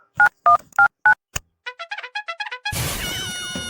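Telephone keypad dialing tones: four longer beeps, then a quick run of about a dozen short, loud, evenly spaced tones, ending in a dense continuous ringing tone.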